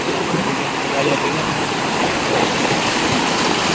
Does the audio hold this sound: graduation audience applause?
no